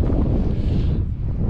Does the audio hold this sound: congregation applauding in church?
no